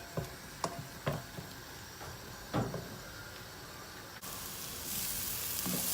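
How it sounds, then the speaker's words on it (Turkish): Onions and a couple of garlic cloves sizzle in a hot pan while being stirred, a steady frying hiss punctuated by several sharp scrape-and-clack stirring hits, with the sizzle swelling brighter near the end. "Soğanımızı karıştırmaya başlıyoruz."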